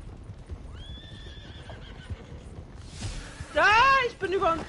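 Horses whinny and gallop during a horse race at a plantation in Saint Denis in the video game Red Dead Online, a drawn-out neigh followed by louder, closer neighing and hoofbeats near the end.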